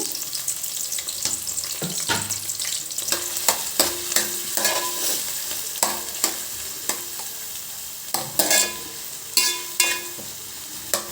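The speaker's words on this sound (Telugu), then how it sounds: "ఆయిల్లో ఇవన్నీ వేసేస్తాను ఉల్లిగడ్డలు అన్నీ ఒకేసారి అవి వేగిపోతాయి" Chopped onions tipped all at once into about four spoons of hot oil fry with a steady sizzle, broken by frequent sharp scrapes and clacks of a spoon stirring them in the pan, close up and with no voices.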